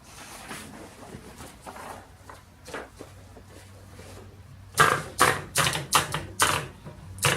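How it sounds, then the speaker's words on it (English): Keys on a 1915 Harris Visible No. 4 typewriter are struck in a quick run of loud, sharp clacks after a quieter stretch of handling noise. The keystrokes are close and there is no talking. "do a quick typing test here"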